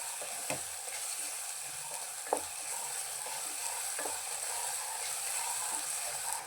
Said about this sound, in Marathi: ह्याला पण तेलावर आपण फ्राय करून घेणार आहोत तेल सुटेपर्यंत